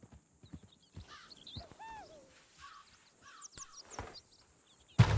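Horses in Red Dead Redemption 2 make hoof clatter and whinnies, mixed with chirping birds. A loud burst comes at the end.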